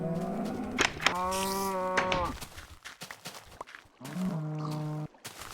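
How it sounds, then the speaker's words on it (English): Cows moo in the Minecraft video game: two long, loud, tonal moos in the first half, then a third after a stretch of softer shuffling, all close and clear with no talking. "The cow noises are already different."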